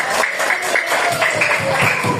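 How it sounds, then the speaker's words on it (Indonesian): Children in a classroom clap together after their teacher asks for a big round of applause, a steady, fairly loud patter of many small hands filling the room for the whole stretch. "kasih tepuk tangan dulu yang banyak-banyak"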